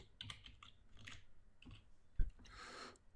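Computer keyboard being typed on while entering JavaScript code, a short burst of close, crisp key clicks with uneven rhythm and no talking.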